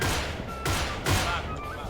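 Rapid gunfire in the shooter game Pixel Gun 3D, a few quick loud bursts packed into under two seconds, with players chattering over the shots.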